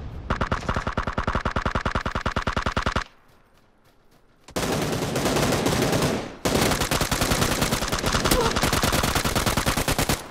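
Rapid automatic gunfire in PlayerUnknown's Battlegrounds, loud and close, in a long sustained burst, then a brief pause and two more extended bursts of fast, evenly spaced shots.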